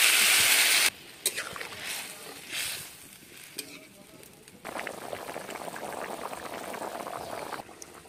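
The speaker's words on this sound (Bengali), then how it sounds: "এখন আমি এর মধ্যে জল দিয়ে দেবো।" Water poured into a simmering egg and potato curry (dim alur jhol) in a pan: a loud rushing hiss for the first second, then softer bubbling and clatter, brief louder stretches, no talk.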